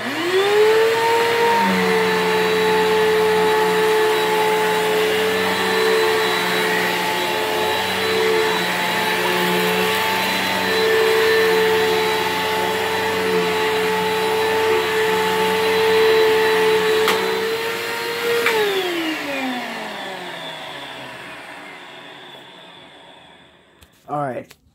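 A Dirt Devil Kone vacuum cleaner whines at a loud, steady pitch for a long stretch, then powers down with a falling hum that fades out.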